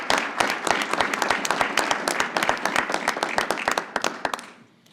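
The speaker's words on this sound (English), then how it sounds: "I'd like to give you all a round of applause" A city council meeting audience breaks into a steady, fairly faint round of applause, dense clapping that fades out toward the end.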